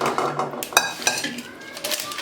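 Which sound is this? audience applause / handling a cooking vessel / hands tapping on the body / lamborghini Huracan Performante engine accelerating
handling a cooking vessel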